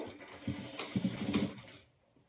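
A sewing machine stitches the side seam of a blouse lining in a short, close burst of rapid mechanical chatter that runs for about two seconds and then stops, heard alone without speech.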